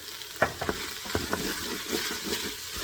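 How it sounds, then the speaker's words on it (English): Vegetables sauté in an Instant Pot, with a soft steady sizzle and a handful of quick scraping stirs from a spoon against the pot, fairly close and gentle; no speech. "just stir it and let it cook for a minute or two"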